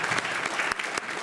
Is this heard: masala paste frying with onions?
no